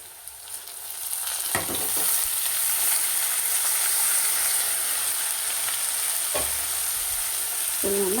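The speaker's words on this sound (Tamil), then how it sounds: "ஸோ இப்போ நம்ம பீட்ரூட்டை சேர்த்துக்கலாம்" Beetroot frying in a hot pan for beetroot rice, a steady loud sizzle with occasional stirring scrapes throughout, no talking.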